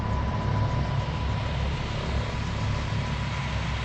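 A small propeller airplane flies low overhead and banks into a turn above an Alaska mining site, its engine drone loud and steady throughout, with no talking.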